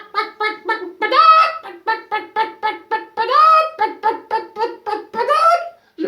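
A human voice imitates a hen cackling after laying, producing a rapid rhythmic string of clucks punctuated by a few drawn-out squawks, loud and close, with no other sound.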